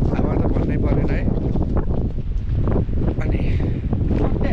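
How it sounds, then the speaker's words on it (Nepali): Strong wind in Mustang batters the microphone outdoors with a loud, continuous roar and gusty rumble, while a person talks over it. "हावा त भन्नै परेन है"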